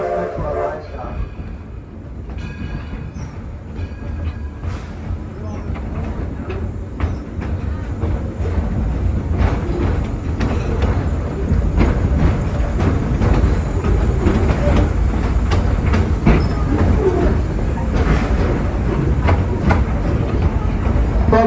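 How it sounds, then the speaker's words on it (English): Heritage train running through a living-history farm toward Firestone Station at the main gate, a steady low rumble and rail clatter that builds louder over the stretch, with people talking over it. "Folks, we're approaching the Firestone Station at the main gate"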